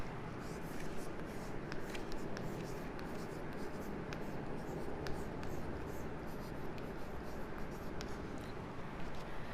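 Pencils scratch on paper as students write in a Class III English lesson, a steady soft rustle and scrape with small tapping strokes throughout, fairly faint and close.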